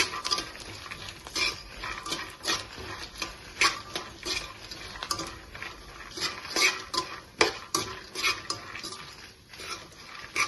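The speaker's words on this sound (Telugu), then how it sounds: "అవి కొంచెం ఫ్రై అయిన తర్వాత చూసారా ఫ్రై అయిపోతాయి" Dried red chilies fry in a pan while a spoon scrapes and clinks against the metal in quick, uneven strokes over a soft sizzle. The sound is close and has no talk over it.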